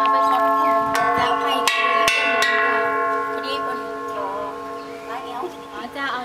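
A temple bell at a Buddhist temple in Chiang Mai rings out close and loud with several sharp strikes. Its long metallic tone lingers and slowly fades, while voices talk softly nearby.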